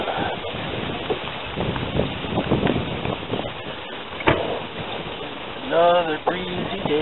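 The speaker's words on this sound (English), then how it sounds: "Another breezy day." Breezy wind at the water's edge on City Island in Daytona Beach, buffeting the microphone in continuous gusty rumbles with waves and boat noise, while voices trade brief greetings near the end.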